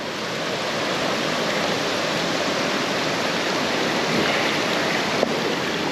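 A river flowing through rainforest rushes in a dense, continuous wash of water, steady and fairly loud throughout with no voices.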